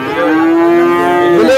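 A cow at a heifer cattle market in Sangola lets out one long, loud moo close by, a sustained, even bellow of about a second and a half with no talk over it.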